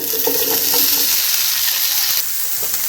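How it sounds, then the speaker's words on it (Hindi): Boiled chicken sizzles loudly in a pan of hot oil, a steady close frying hiss with occasional stirring scrapes throughout. "पैन में मैंने 1 चम्मच ऑयल डाला है और इसे अच्छे से गर्म कर लिया है। अब मैं इसमें ऐड करूँगी बॉयल किया हुआ चिकन।"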